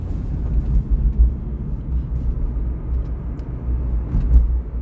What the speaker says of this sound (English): you're gonna hear a lot of road noise